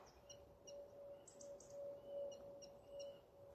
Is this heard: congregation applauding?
no